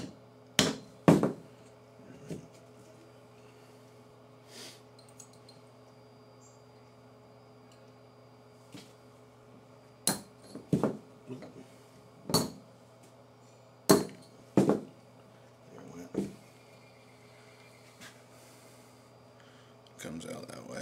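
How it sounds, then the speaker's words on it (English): Light metal taps of a punch or screwdriver knocking the firing pin out of a PPS43 bolt, a dozen or so sharp clinks in irregular clusters over a steady low hum, with brief speech. "use either your screwdriver or your punch to just kind of lightly get it past that lip so it'll fall out."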